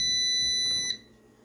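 A bread machine gives a single steady electronic beep that rings out clearly for about a second, then cuts off, leaving a quiet room.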